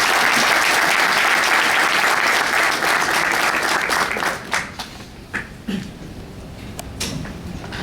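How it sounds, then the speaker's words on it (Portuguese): A seated audience at a public health talk breaks into dense, loud applause that rolls on for several seconds, then thins out into scattered individual claps before fading. "Então eu queria, neste momento, pedir uma salva de palmas, Davi Wippe."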